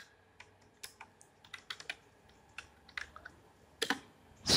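Keys on a computer keyboard tapped to enter a command at a command prompt, crisp separate clicks at an uneven pace with a louder clack at the end, close-up and without speech.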